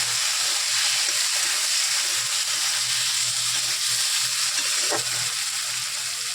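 Chili powder being stirred into frying food in a pan, with steady broadband sizzle throughout and soft scraping stirs, close and alone without talk.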